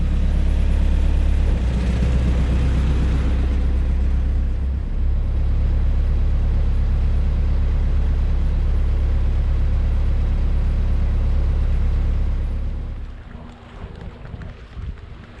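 A boat motor runs loud and steady at close range with a deep rumbling drone and wind buffeting over it, then drops away sharply near the end.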